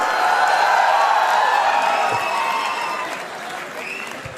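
A live Gujarati comedy show audience in Ahmedabad breaks into loud applause mixed with crowd cheering, a thick sustained roar of clapping that gradually eases off.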